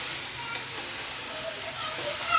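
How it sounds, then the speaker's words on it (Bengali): Meat frying in a pan with ginger, garlic and onion gives a steady, close sizzle with a constant hiss and no speech over it. "এই জন্য আদা রসুনের সাথে পেঁয়াজের সাথে মাংসটাও ভাজি নিতে হবে"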